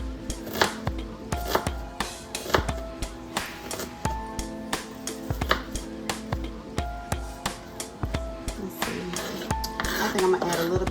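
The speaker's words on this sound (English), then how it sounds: "I think I'm going to add a little bit more onion to mine" Knife chopping onion on a cutting board for a meat and potato casserole, a steady run of crisp close taps at an even pace with a voice talking faintly underneath.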